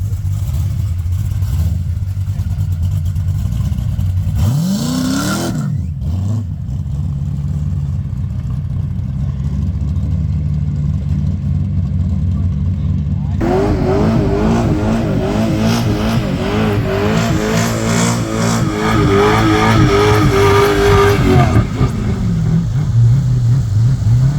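Race car at a racing event revving and accelerating hard, a loud, steady engine roar with a brief dip near the start, then rising harmonics as it pulls away, close to the listener with faint crowd noise.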